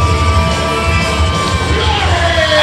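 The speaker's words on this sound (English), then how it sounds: "As the crowd celebrates." A wrestling crowd cheers and celebrates after a pinfall in a multi-man match, a dense, steady roar of voices with shouts and whoops rising across the whole clip.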